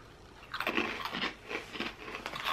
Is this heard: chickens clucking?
no